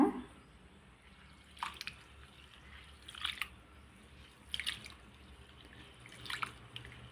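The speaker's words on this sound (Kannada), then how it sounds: "ನೀರು ಹಾಕ್ಕೊಂಡು ಈ ರೀತಿ ಚೆನ್ನಾಗಿ ಅದನ್ನು ತೊಳ್ಕೊಳ್ಳೋಣ" Quiet water sloshing as dosa ingredients are washed in water, with a few splashy bursts spaced about every second or two, close by, with no speech.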